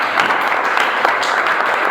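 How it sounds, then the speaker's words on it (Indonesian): Applause from a class of students in a classroom, a steady dense patter of many hands clapping close by for the full stretch without a pause. "Kasih aplaus."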